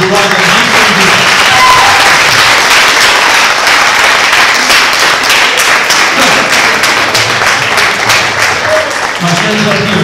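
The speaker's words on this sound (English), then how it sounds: "we will start by giving the people on the stage a big round of applause" An audience at a college hypnosis show applauds the people on stage, with dense, loud clapping that sustains for about ten seconds and thins slightly toward the end.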